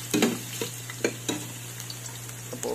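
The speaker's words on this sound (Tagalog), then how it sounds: "Dito na rin natin siya igigisa." Ginger sautéing in a pan during a Filipino catch-and-cook of snakehead (dalag) pochero: a constant low sizzle under repeated sharp scrapes and taps of a utensil stirring, close and moderately quiet.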